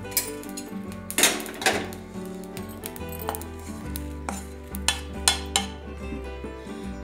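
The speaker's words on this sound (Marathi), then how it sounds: "जिरे नुसतं गरम करायचं, त्याला भाजायचं नाही." Cumin seeds warm in a pan for peanut chutney, with a spoon scraping and clinking against the metal in irregular taps over a sustained musical background.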